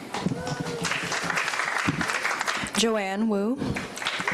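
An audience at a community board public hearing and monthly meeting claps for newly introduced board members, the applause running beneath voices speaking throughout.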